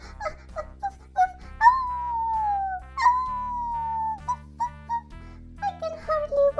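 A voice imitates a dog with a run of howling, whimpering woofs, some drawn out into long sliding yowls, over a steady musical backing.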